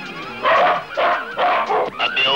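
Dog barks and yips in a Pakistani film scene, several short loud bursts in quick succession with a whimpering, yelping edge, close by and dominating the clip.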